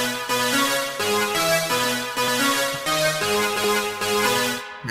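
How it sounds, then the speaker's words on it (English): Dub super saw synth playing a rhythmic chord pattern, bright buzzy stacked tones in repeating pulses for several bars, then cutting out abruptly at the end. "again, you get this dub super saw synth around here."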